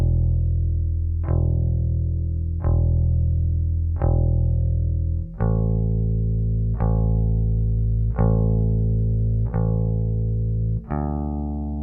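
Electric bass picked with all downstrokes, a steady run of nine loud, evenly spaced notes starting on E, each plucked attack ringing into the next with no voices.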